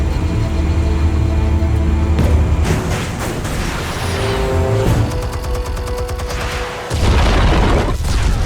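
Explosives detonating in the Batman: The Telltale Series video game, heavy booming blasts and rumbling bursts layered over a tense musical drone, loud and forceful with a sharp burst near the end.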